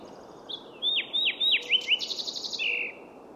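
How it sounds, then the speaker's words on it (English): Thick-billed fox sparrow singing in California mountains: a clear, close run of sweet whistled notes followed by quick repeated trills and a buzzy ending, alone against a soft background hiss. "It's a thick-billed fox sparrow world."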